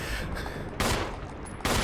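Gunfire from the video game Resident Evil HD comes as two sharp, short bursts about a second apart over a quiet background.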